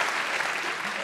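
Dense, steady audience applause at a French stand-up comedy show, a continuous wash of many hands clapping at even loudness throughout.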